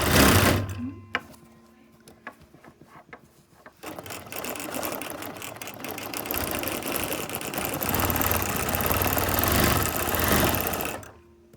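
A sewing machine starts and runs steadily, its rapid needle-driven whirr building loud and close after a few brief starts and stops, used while stitching a puffin.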